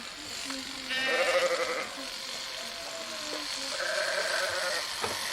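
Sheep bleat in a few short, wavering calls, fairly close, with a steady background hiss.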